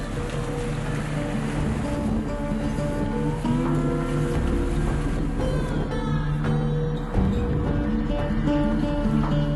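Two motor launches setting out across open water, a steady engine drone mixed with wind buffeting and splashing waves, loud and close throughout, with a brief bump near the end and no speech.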